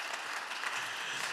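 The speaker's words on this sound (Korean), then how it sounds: "우리 다시 한번 축하의 박수를 드리도록 하겠습니다." Celebratory applause from a church congregation at a Sunday young adults' worship service, a brief, even wash of many hands clapping at moderate distance with no talk over it.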